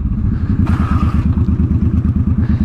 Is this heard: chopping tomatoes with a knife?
no